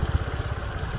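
A motor scooter engine in Tainan runs with a low, pulsing throb for about a second as the throttle is worked, close and steady with no talk over it.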